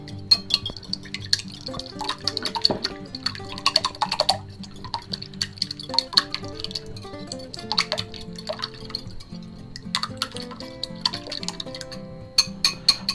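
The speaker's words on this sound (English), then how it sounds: "Alright, now let's beat that up" Eggs with pepper, garlic powder and a little water are beaten in a bowl, producing quick, irregular clicks and taps that come in bursts with brief pauses, close up and fairly quiet.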